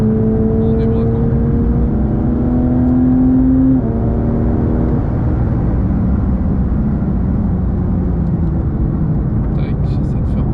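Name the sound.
Porsche 911 GT3 992.1 accelerating on Spa circuit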